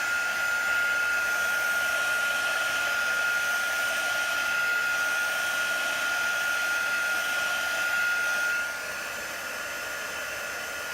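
A new heat tool blows hot air to dry a chalk transfer on glass, a loud, steady whirring blast with a high whine that drops slightly in level near the end.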